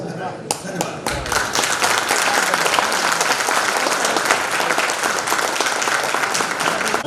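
An audience in a hall bursts into loud, sustained applause after a few scattered opening claps, dense and close, with a voice speaking over it near the start.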